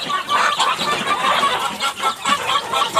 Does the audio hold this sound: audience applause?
no